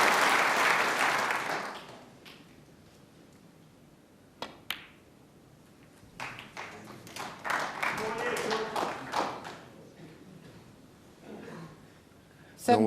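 A burst of applause from the crowd at a snooker world championship semi-final, loud at the start and fading within two seconds, then a few isolated claps and taps before a commentator speaks, with a brief renewed clap at the end.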